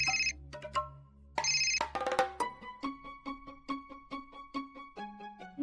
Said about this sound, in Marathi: कोणाचा फोन आहे ग?